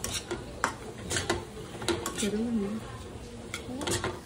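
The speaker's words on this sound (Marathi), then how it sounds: "आपण परतून घेऊया." Cabbage being stirred in a pot in a home kitchen, with a spoon scraping and clinking against metal in uneven knocks and rattles, a faint background sizzle, and a voice speaking intermittently over the clatter.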